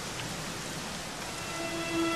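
Steady rain pours in a Dragon Quest XI scene, a dense, even hiss of falling water filling the whole stretch with a slight swell at the end, with no voices.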